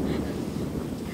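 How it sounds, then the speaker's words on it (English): Strong wind buffets the microphone on the Haduan Bridge in Mabalacat, Pampanga, over volcanic lahar water, a steady low roar with no clear speech. "Oh, it's windy."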